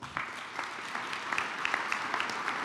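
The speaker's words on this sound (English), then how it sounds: "if we could give them a round of applause" Audience applause at a groundbreaking ceremony for a new Bayview Hunters Point center, a steady wash of many hands clapping with sharper individual claps poking through, moderately distant and filling the whole stretch.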